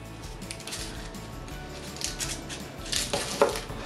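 A knife halves garlic cloves on a cutting board, giving a run of crisp close taps, clicks and short scrapes that grow louder toward the end, with no talking.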